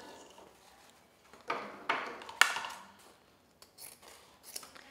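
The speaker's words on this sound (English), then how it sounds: "I'm going to cut another piece of ribbon" Scissors cut a piece of ribbon for a rose bundle gift, giving several crisp separate snips close by, with quiet pauses between them.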